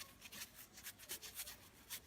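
A knife saws through a small bread roll, giving a run of quiet, rhythmic rasping strokes close by.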